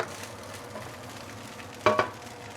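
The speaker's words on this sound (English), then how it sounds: "Give it the last few stir, and our luncheon meat fried rice is ready" A spatula stirs luncheon meat fried rice with spring onion in a hot pan, a soft sizzle running throughout with a couple of brief scraping clinks near the end.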